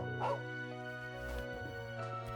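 A dog barks and yips in the Trails of Cold Steel II video game. A short bark rises above a steady layer of game music and hum, followed by softer whimpers. It is fairly faint, with no talking.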